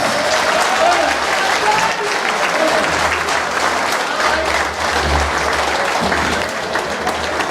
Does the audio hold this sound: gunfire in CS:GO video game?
no